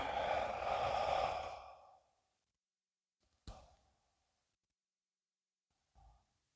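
One long, breathy exhale during a qigong squat exercise, close and soft, fading into silence before two brief faint breath sounds.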